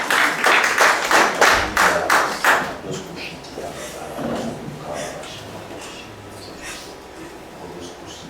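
A church congregation claps and cheers for the Lord, loud rhythmic clapping at first that fades into a softer, sustained wash of crowd noise and voices.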